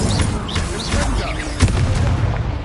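An Incendio fire spell cast during a Hogwarts Legacy duel, heard as a thick, steady roar of battle effects with a sharp booming hit near the middle and chirping magical tones, under occasional talk.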